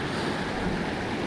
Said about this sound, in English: It's coming down, little waterfall here in between again.